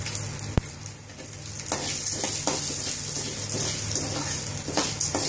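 Urad dal lentils sizzle steadily in hot oil in a pan, with occasional stirring scrapes and small pops, close and continuous.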